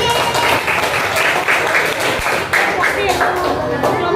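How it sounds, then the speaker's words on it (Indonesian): Schoolchildren in a classroom clap for their classmates after a maths exercise, a loud, uneven burst of many hands with voices mixed in throughout. "tepuk tangan untuk semuanya"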